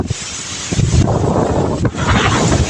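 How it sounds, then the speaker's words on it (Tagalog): Strong typhoon wind in the Philippines buffeting the microphone with a roaring, gusting rush that swells and dips, loud and continuous. "Makusog-kusugan ng hangin."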